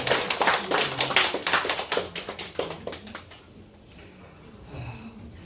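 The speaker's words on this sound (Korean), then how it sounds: "박수 한번 합시다." Congregation in a Korean church service clapping in welcome, a burst of brisk, loud, close hand claps that thins out and stops after about three seconds, followed by quiet room tone.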